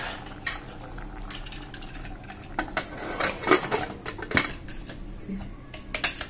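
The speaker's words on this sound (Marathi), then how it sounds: "आपण आता झाकण लावून घेऊया." Metal clinks and knocks of a pressure cooker lid being set onto a pot of boiling salted food, a few sharp, close clatters over faint kitchen background.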